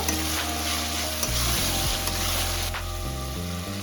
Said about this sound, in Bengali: দিয়ে আবার একটু ভালো মতো নাড়িয়ে চালিয়ে দেব